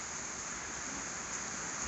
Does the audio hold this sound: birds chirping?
no